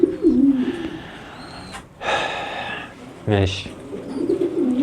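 Meat-breed pigeons coo in low, rolling phrases near the start and again at the end, with a man's brief speech and breathy sounds in between.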